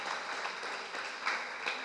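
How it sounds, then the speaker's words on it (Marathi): Steady applause from an audience at a grandparents' day event at a church hall, dense even clapping sustained throughout with a couple of slightly louder bursts. "आपण जोरात टाळ्या वाजवून त्यांचा आभार मानूया"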